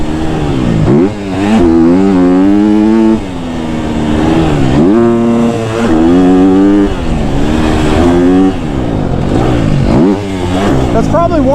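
A KTM 250 SXF four-stroke dirt bike engine runs loud and close, idling and then revving in repeated rising and falling surges with mechanical clatter, and a voice is faintly present beneath it.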